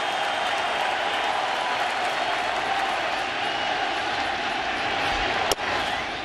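A packed baseball stadium crowd at a 2015 World Series game between the Kansas City Royals and New York Mets cheers and applauds in a continuous, loud roar, with one sharp knock near the end and faint commentary underneath.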